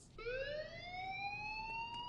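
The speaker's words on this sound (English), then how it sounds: "That is an old-fashioned fire alarm." An old-fashioned fire alarm in the video game Life Is Strange, a rising, wailing siren-like tone that climbs steadily in pitch and holds at moderate volume.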